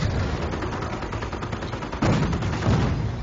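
Sherman tanks trading fire with German Panzers in a real-time strategy game, heard as a rapid, crackling stream of gunfire with heavier thumps near the end, fairly loud and continuous.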